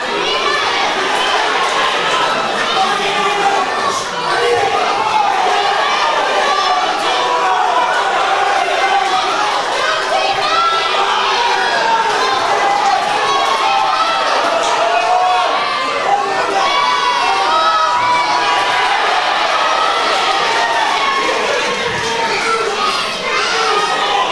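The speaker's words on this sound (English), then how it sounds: "Crowd getting behind every shot that is thrown, every shot that lands" At an amateur boxing club home show, a loud, sustained crowd yells and cheers throughout, many excited voices including children shouting in a constant roar that swells at moments.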